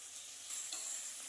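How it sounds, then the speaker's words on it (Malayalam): Coconut oil poured into a pan of red spinach and jackfruit-seed stir-fry, a soft hiss building over about a second before a sharp, brief sizzle at the end. "കുറച്ച് വെളിച്ചെണ്ണയും കൂടെ ഒഴിച്ചു കൊടുക്കാം"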